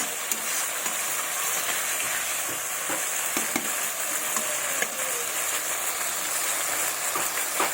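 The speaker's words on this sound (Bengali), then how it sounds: "এবার ভালোভাবে মশলাটাকে কষিয়ে নেব যতক্ষণ না তেল ছাড়ে।" Spice masala sautéing in oil for an American fish curry, a steady loud sizzle and crackle filling the whole moment, with faint occasional stirring scrapes and no talking.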